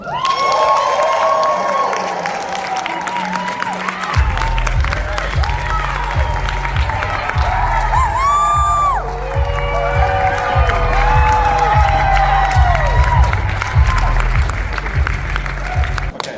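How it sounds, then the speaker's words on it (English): Loud audience applause and cheering welcome speakers onto a stage at a live event, with whoops and shouts over dense clapping while a pulsing bass-heavy music track thumps steadily underneath. "can I get a big round of applause and a welcome so that I can bring Chris Robinson back on stage"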